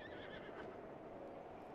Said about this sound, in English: Why is there horses there?